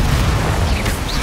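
A Confringo spell explosion in the video game Hogwarts Legacy makes a brief, heavy, rumbling blast that fills the short moment with continuous low booming.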